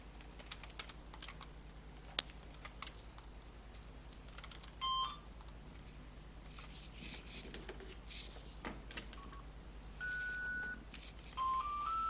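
A telephone rings with short electronic beeps and a rising stepped tone near the end, amid steady computer-keyboard typing and clicking during a Minecraft Egg Wars game session.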